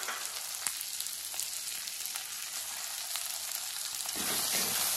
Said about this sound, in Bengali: পেঁয়াজগুলো তেলের মধ্যে দিয়ে লাল লাল করে ভেজে নিই